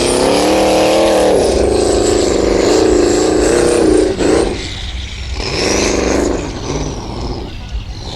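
An unlimited-class Formula Offroad race car in Iceland revs loudly and close by, its engine note climbing and sustaining before cutting off. Two shorter revs follow.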